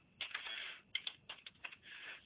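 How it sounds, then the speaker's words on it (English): Keys clatter on a computer keyboard as text is typed into a document, in quick bursts of close, light clicks with short pauses between them. "So we'll start off here just by typing in just some text."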